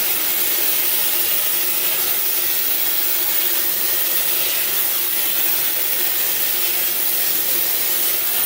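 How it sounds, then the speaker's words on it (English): A hair dryer blows steadily and loudly at close range while blow-drying hair with a brush, a constant airy whoosh with no pauses. "Take the blow dryer and point it directly where the brush and your hair is"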